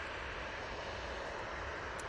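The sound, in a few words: Boeing 737-800 aircraft at Manchester Airport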